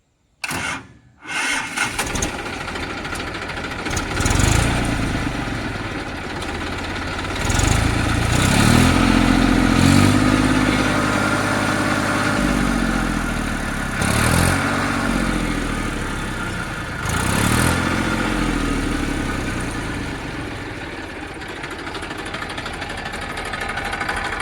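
A Massey Ferguson 241 tractor diesel engine starts and settles into a steady, loud, close idle, with a few revs that rise and fall and no talking over it.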